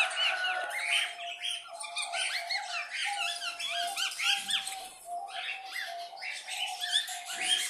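Pairs of caged cockatiels in a home aviary give a dense, continuous chorus of overlapping chirps, squeaks and shrill calls, moderately close and steady throughout with no talking.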